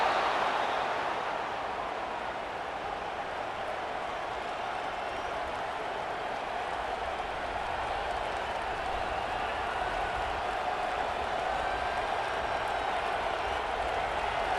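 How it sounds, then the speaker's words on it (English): A big stadium crowd in Happy Valley roaring on third down at a Penn State versus Indiana college football game, a broad, sustained wash of noise that holds steady throughout, with a commentator's voice faintly beneath it. "Here comes the noise from this big crowd in Happy Valley on 3rd down"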